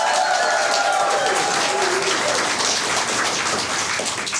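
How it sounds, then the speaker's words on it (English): An audience at a live theatrical show applauds the crew on the tech desk, producing thick, continuous clapping that sounds like heavy rain. The applause stays loud and even throughout, easing only slightly toward the end. "Give them a round of applause."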